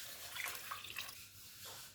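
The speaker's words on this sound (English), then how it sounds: "add some water" Water is poured into a pot of egusi soup made with goat meat stock, stockfish and crayfish, producing a soft, steady splashing pour that fades after about a second, with no talking.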